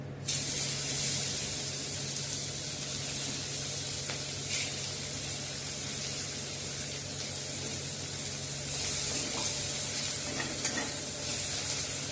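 Chopped onions fry in hot oil with a continuous bright sizzle, steady and moderately loud, rising slightly near the end, with faint stirring scrapes and no talking.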